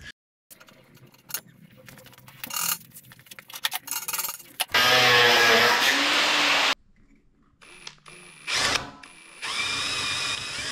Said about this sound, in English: Then I drill it out to 12mm to suit the drive shaft.